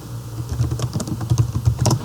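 Rapid typing on a computer keyboard while entering a material into an Excel sheet, a steady run of close, crisp key clicks with a few louder strokes and no talking.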